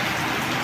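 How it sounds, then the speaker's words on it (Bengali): Heavy rain falls in a thunderstorm, a dense, even hiss of drops pattering on surfaces, loud and continuous without pause. "অনেক আধা বৃষ্টি কমছে, অনেক বৃষ্টি প্রায় কমে গেছে"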